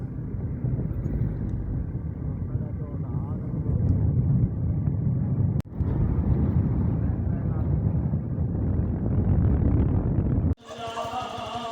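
Motorbike ride at dusk in Pakistan, with a steady engine drone and heavy wind rumble throughout, a brief dropout mid-ride and a sudden noisy change near the end.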